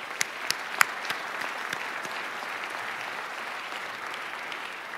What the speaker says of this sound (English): So everybody, please give them a round of applause.